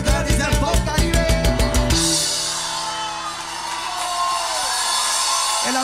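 A live audience on the Colombian legislative radio program Frecuencia Legislativa bursts into loud, broad cheering and applause right after a short rhythmic musical jingle, the crowd noise filling the rest of the moment.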